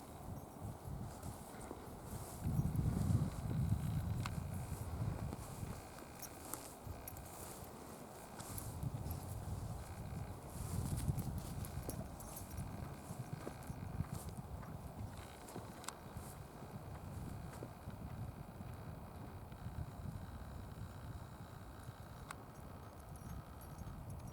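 Horse cantering over an outdoor arena, soft repeated hoof clip-clop at moderate distance under wind noise, in loose rolling bursts with no voices.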